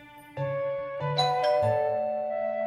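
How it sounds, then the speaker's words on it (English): A doorbell chimes in a Doki Doki Literature Club mod, with clean bell-like tones struck several times in a quick sequence and each one ringing on. "The doorbell ring, what?"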